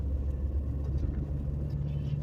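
A car pulling away gives a steady, loud low rumble with dull road noise throughout, heard close from inside the vehicle.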